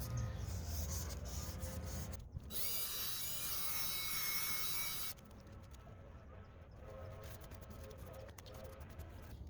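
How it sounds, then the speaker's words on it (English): A power drill spins a 3M headlight restoration sanding pad against a car headlight with a harsh whirring rasp that runs steadily, then drops sharply in level partway through and continues as a quieter rubbing grind. "Getting into these awkward spaces isn't so easy with the drill."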